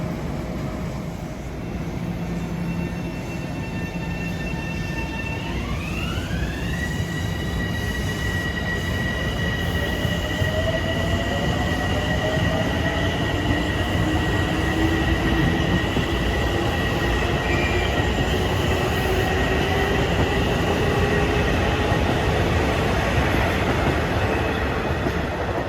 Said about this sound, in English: coming in at 4:55 on track number 2 is train 658 en route from Penn Station, New York to Port Jefferson